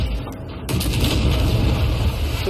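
A ship's cannon fires in a pirate video game, opening with a sudden heavy boom that gives way to a sustained roaring rumble and crackle, loud and close.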